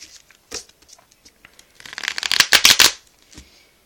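A deck of Yu-Gi-Oh! trading cards being handled and shuffled up close, a few quick isolated flicks followed by a dense riffling burst of snapping cards that fades out.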